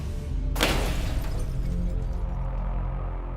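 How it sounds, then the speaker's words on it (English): Car windshield glass bursts with a single loud, sharp crash while driving under an overpass, its crackling tail fading over steady road and engine noise. "The loud explosion of glass."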